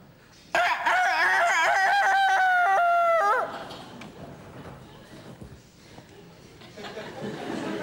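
A voice mimics a rooster's crow in one long, loud, wavering cock-a-doodle-doo lasting about three seconds, followed by quieter murmuring and laughter from other people.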